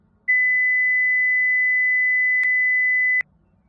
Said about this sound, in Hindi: अब मैं 2005 हर्ट्ज की फ्रीक्वेंसी आपको सुनाता हूं